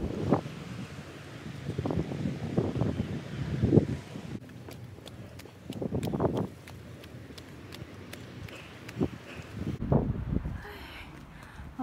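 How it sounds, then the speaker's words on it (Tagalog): Wind buffets the microphone in uneven gusts on a hiking trail at Big Wave Bay, with rumbling low noise and a faint ticking in the background. "Oh, ang sarap ng hangin."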